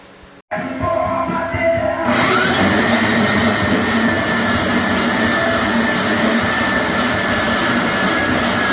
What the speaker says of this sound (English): I'm getting ready to cut out my plates there